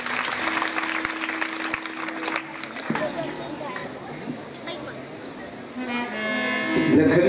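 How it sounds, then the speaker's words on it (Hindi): An audience claps steadily for a Chhattisgarhi folk song performance by singer Ram Narayan Dhruv at a Navdha Ramayan gathering, a dense, continuous crackle of many hands that runs throughout, with a voice speaking over the start. "ताली से आप स्वागत करें।"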